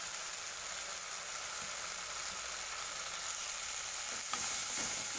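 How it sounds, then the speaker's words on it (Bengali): Spices with salt and turmeric fry for a fish curry, giving a steady, close sizzle that runs through the whole stretch with light stirring scrapes near the end; no talking. "দেখো একটু ভাজা ভাজা করে নেব।"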